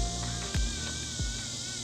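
Dog-day cicadas drone from the trees around Niagara Falls, a constant high, shimmering buzz filling the background with no voices and a couple of brief low thumps.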